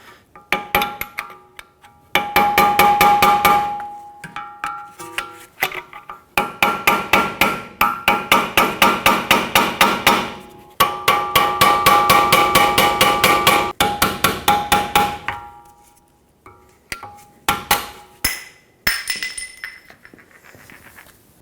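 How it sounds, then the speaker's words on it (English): Hammer blows driving a pry bar to pop off the hub cap covering the spindle nut on a 2012-2019 Fiat 500 rear hub: loud, close metallic strikes in rapid bursts of many quick hits, separated by short pauses, with a few scattered taps at the end. "With a little pry bar and a hammer, we're going to have to pop this cap off."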